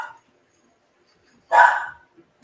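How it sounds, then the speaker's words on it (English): A dog barks once, loud and near, with a short clipped yelp at the start and another starting at the end; silence in between. "these dogs just won't shut up."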